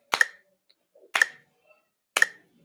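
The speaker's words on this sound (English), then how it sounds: "Let's see what 60 sounds like on the metronome." A metronome set to 60 BPM gives three sharp, isolated ticks exactly one second apart in an otherwise quiet room.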